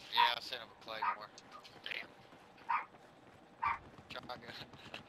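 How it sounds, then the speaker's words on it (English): Dogs bark in the background of a Battlefield 4 multiplayer session, several sharp woofs spaced irregularly, while people chat over voice. "those dogs are barking"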